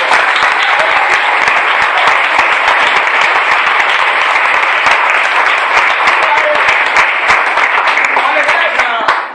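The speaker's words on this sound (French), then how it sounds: "Est-ce qu'on peut acclamer le Seigneur?" A church congregation applauds the Lord with loud, sustained clapping that fills the room, dense and continuous throughout, with voices mixed into the crowd noise.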